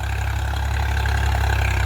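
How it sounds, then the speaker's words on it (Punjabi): Swaraj 49 hp tractor pulling a 9-foot rotavator at 1400 rpm while preparing a field for paddy nursery, a steady, loud, continuous low engine drone with constant mechanical churning and no pauses. "ਆ ਦੇਖੋ 9 ਫੁੱਟਾ ਰੂਟਾਵੀਟਰ ਚੱਲਦਾ ਇਹਦੇ ਮਗਰ ਤੇ 1400 ਚੱਕਰ ਤੇ ਵਧੀਆ ਚੱਲ ਰਿਹਾ ਏ"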